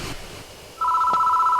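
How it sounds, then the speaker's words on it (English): A telephone rings in the video game Death Mark, a steady electronic tone starting abruptly after faint ambient noise and holding loud and clear to the end. "Phone is ringing."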